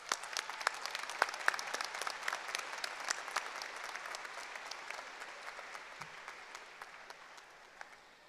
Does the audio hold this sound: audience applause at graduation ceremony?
yes